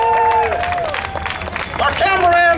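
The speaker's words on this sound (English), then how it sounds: "Big round of applause for Gabriel Crawl." A crowd applauds and cheers for a committee chair at a Juneteenth celebration on the Seattle waterfront, with steady clapping and voices calling out over it for a couple of seconds.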